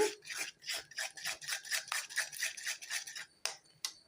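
Cabbage mushroom masala stirred in a pan, a spoon scraping and rubbing against the metal in a steady rhythmic series of rasping strokes, close and fairly quiet, with no talking.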